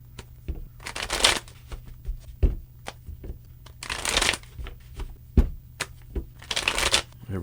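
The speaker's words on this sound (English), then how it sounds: "3 more shuffles and let's begin." Tarot cards are riffled and shuffled close up in repeated bursts, each sharp flurry of card slaps separated by brief pauses and softer taps.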